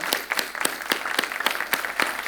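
Loud, brisk applause from a group, many hands clapping in a dense steady patter for a couple of seconds.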